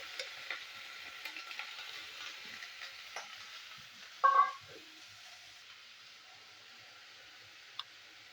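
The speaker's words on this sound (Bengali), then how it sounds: "তো করলা আমি আগে ভেজে নেবো তেলেতে, সরষের তেল বানাবো।" Bitter gourd slices frying in mustard oil with a little salt, a faint, steady sizzle with scattered small clicks and one brief louder crackling burst partway through.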